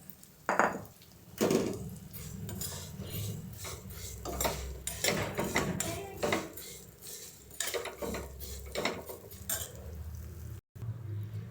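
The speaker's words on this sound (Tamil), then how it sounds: "சேமியாவை அதே மாதிரி நம்ம ஃபைனாக ரோஸ்ட் பண்ணிக்கலாம்" Vermicelli roasting in a pan for milk payasam, with a metal spoon scraping and stirring against the pan in irregular knocks and clinks, close and fairly loud.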